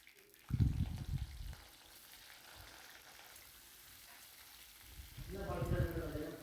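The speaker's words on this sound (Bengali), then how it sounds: "বাকি ফুলকপিগুলোও ঠিক একইভাবেই ভেজে নেব।" Cauliflower pieces fry in hot oil for a malaikari. The oil gives two bursts of bubbling sizzle, one near the start and one at the end, with a quiet stretch between them.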